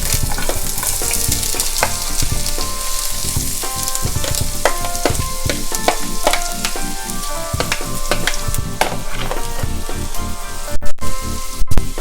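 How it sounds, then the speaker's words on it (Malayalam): Sliced onions, crushed green chillies and curry leaves crackle and sizzle loudly in a hot pan for a Malabar-style chicken dish, with dense popping spatters throughout and a few sharp clicks near the end. "2 ഉള്ളി സ്ലൈസ് ചെയ്തത്, 2 പച്ചമുളക് ചതച്ചത്, 2 ഇതൾ കറിവേപ്പില ഇത്രയും പാനിലേക്ക് ചേർത്ത് കൊടുക്കുക."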